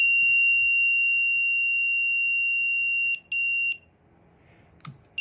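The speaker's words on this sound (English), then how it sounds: "They say hold the button until the long beep is over." A Schlage Home Front deadbolt emits a long, steady, high electronic beep during a factory reset, lasting about three seconds, then a couple of short beeps and quiet handling clicks, close and loud with no talk.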